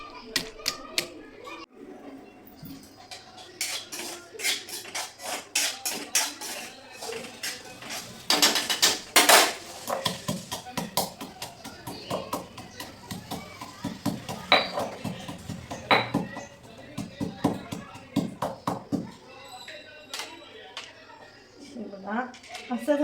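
Something is pounded and crushed in a home kitchen while semolina roasts for sheera: rapid, sharp knocking impacts in uneven bursts, fairly close and loud, with children's voices in the background.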